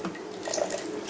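Water runs steadily into a smoothie being blended at home for a sugar-free breakfast, a soft continuous trickle close to the microphone with no talk over it.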